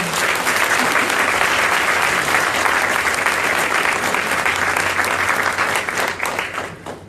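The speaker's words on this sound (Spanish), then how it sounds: "A ellos dos, un fuerte aplauso, por favor" Sustained loud applause from a large audience at a talk, steady dense clapping for about six seconds before thinning and fading at the end.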